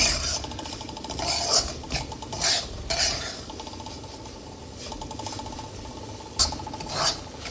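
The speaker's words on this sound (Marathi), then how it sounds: "सावकाश भाजायचा, व्यवस्थित सगळीकडून तो भाजला गेला पाहिजे आणि हे असं ढवळत राहील" Semolina roasting in a pan for rava besan laddoos, stirred steadily with a spoon that scrapes and rasps against the metal in repeated sweeping strokes, close and fairly loud with no talk.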